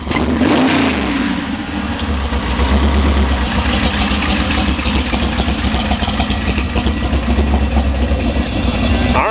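A classic 1967 Chevrolet Nova with a lumpy cam rumbles loud and close at a muscle car stroll, its choppy idle steady throughout with slight revs and heavy low-end throb.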